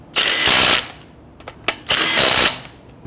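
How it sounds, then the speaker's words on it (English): A power tool tightening lug nuts on a 2011-2017 Nissan Quest front wheel fires in two loud, sustained buzzing bursts, with short sharp blips between them, close by and with no talk. "When tightening down the lug nuts, you want to do it in a crisscross pattern."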